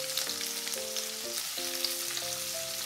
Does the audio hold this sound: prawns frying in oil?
yes